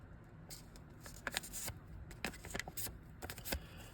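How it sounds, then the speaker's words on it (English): A paper circle being folded in half, with close crinkling and rustling crackles in short irregular bursts as the sheet is bent and creased. "So you're going to take your circle and fold it in half."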